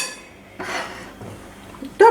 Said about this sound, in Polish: Jajko dokładnie mieszam.